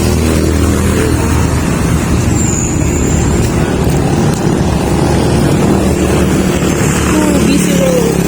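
Steady, loud traffic noise on a busy road in Roxas City, with cars and motorcycles rumbling past nearby and a brief horn-like tone in the mix.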